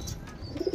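Pigeons coo softly at close range in a short burst of low, throaty calls with no voices in between.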